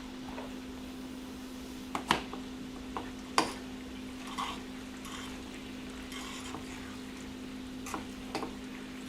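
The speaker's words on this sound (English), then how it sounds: "Mix it real well." A spoon stirring a mac and cheese mixture with mozzarella, giving soft, sparse wet scrapes and a few sharper clinks against the bowl over a steady low hum, with no talk.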